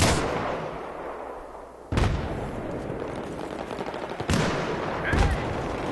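Sniper rifle shots in a PC video game, with two sharp loud cracks a few seconds apart over a dense, steady noisy game background.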